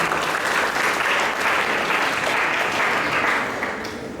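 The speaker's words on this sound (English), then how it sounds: "You seem to get claps all the time when you give your feedback." An audience applauds after a group presentation of skits, steady dense clapping filling the room throughout before easing slightly at the end.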